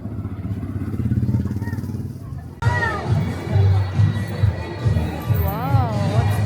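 A motorcycle engine passes on a path near a stevia farm in Bulacan at Christmastime, a steady low drone running under nearby voices and children's chatter.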